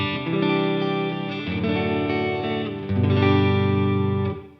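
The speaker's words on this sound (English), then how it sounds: "here's the clean tone with the pedal turned off." A clean electric guitar with the Wampler Belle overdrive pedal switched off plays through a Fender Deluxe Reverb with vintage V30 speakers: three strummed chords, each ringing out fully before the last fades.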